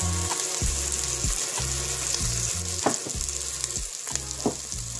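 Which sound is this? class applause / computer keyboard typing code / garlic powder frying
garlic powder frying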